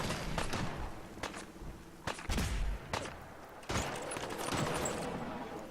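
Bursts of gunfire in Fallout 4, sharp loud cracks in an irregular sequence with short volleys and gaps, set against continuous game ambience.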